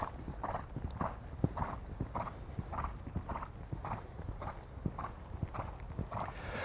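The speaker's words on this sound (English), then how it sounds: "just allow Yara to increase her canter slightly" Horse cantering in an arena during a jumping lesson, its hoofbeats falling in a steady repeating three-beat rhythm, close and clear, with a snort or breath between strides and no talk.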